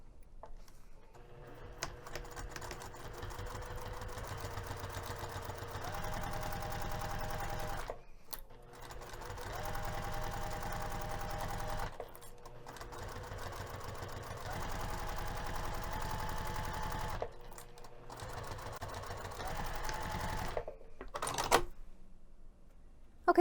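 Sewing machine stitching the pinned edge of a tote bag with a quarter-inch seam allowance, a steady close whir in four long runs separated by short stops, with faint clicks near the end.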